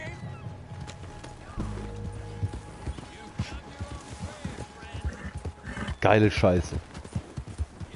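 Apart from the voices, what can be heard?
horse hooves clip-clop, video game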